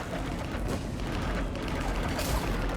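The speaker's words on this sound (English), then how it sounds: "Gunfire. They are near." Gunfire in the video game Mass Effect 3, a continuous rumble of distant shots and booms mixed with mechanical game noise, steady and fairly loud throughout.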